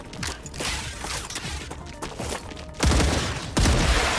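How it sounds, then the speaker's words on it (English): Magazine change while reloading a gun in StarRupture during a fight against alien spitters, rapid clicking and metallic mechanism sounds amid ongoing gunfire, ending with two louder bursts. "Changing mags."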